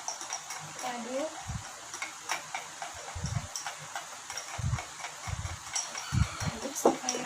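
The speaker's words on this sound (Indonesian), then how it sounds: "Aduk sampai rata." Spoon stirring iced milk coffee in a glass, quick clinking taps of metal and ice repeating irregularly, close and fairly quiet, with a soft voice in the background.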